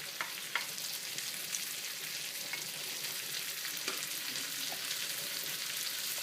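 Three onions hitting hot oil in a pan for caramelizing, giving a steady broad sizzle throughout with occasional soft clicks of stirring or the pan, close and alone without talk.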